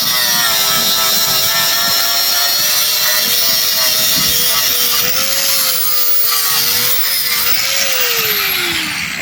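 A loud angle grinder whines continuously up close outdoors, its pitch wavering and dropping slightly near the end as it cuts.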